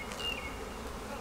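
Honeybees hum steadily from an opened beehive during a hive inspection, a dense, close, continuous buzz with individual bees whining past now and then.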